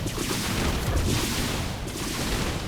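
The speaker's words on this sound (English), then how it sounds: "These Banshees are gonna destroy this Nexus." In StarCraft 2, cloaked Banshees attack a Protoss Nexus in a dense, continuous barrage of gunfire-like blasts and booms that stays loud throughout.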